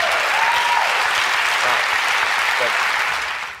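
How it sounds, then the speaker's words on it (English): An audience bursts into sustained, dense applause after a card trick, loud and steady throughout before tapering off at the end. "The audience applauds."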